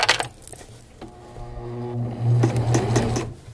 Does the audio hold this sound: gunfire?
no